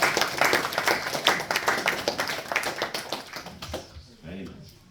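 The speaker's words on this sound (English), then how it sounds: "All devotees, please give a round of applause." Devotees at a Bhagavad Gita study gathering give a burst of hand clapping, brisk and close, which tapers off into quieter room sound.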